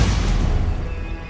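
A Confringo explosion spell bursts in the video game Hogwarts Legacy as a short, dense, loud rumbling blast that fades quickly, with no voices.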